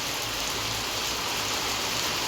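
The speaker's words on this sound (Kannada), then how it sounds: "ಒಮ್ಮೆ ಮಳೆ ಬರೋಕ್ಕೆ ಸ್ಟಾರ್ಟ್ ಆಯಿತು" Rain falls steadily in a dense, unbroken hiss, a uniform wash of sound around the yard with no voices over it.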